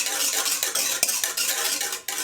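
Eggs and oil are mixed in a bowl for brownie batter, with fast, steady whisking strokes clicking and scraping against the bowl's sides, loud and close with no voices.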